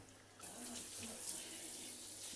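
Water gushes steadily from a tap while a dog is being bathed, a close, continuous rushing hiss that swells after a brief quieter start, with a faint voice in the background.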